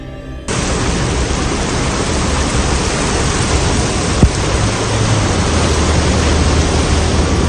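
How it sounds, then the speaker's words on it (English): A heavy rainstorm pours down hard as a loud, dense, continuous hiss that starts suddenly and holds steady, with one brief sharp crack partway through. "Heavy rain accompanied by fierce storms."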